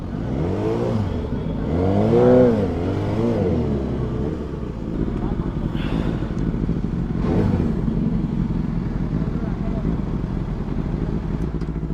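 A motorcycle engine revs repeatedly in a crowded street during Durga Puja festivities, rising and falling whines heard fairly close over steady crowd noise, with people talking nearby.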